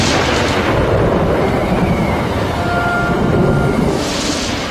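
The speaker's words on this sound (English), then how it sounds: "And at that point, lightning struck." Thunder from a lightning strike in a storm rolls as a loud, sustained rumble that fills the whole stretch, with a brighter crack-like surge near the end.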